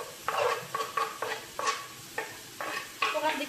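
Cut spaghetti is stirred in a frying pan, with repeated scraping strokes over a soft sizzle, each stroke short and close, about eight strokes in a loose rhythm and no talk.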